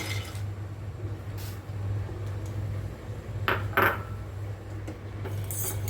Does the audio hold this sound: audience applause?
no